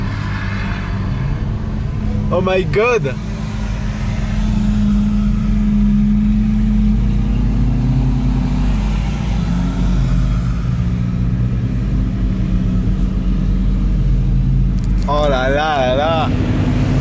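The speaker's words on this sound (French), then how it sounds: "Oh, ce convoi de voitures." Convoy of supercars climbing a mountain road at Top Marques 2018, a steady rumbling engine drone that swells as the cars pass, with excited exclamations from a nearby onlooker.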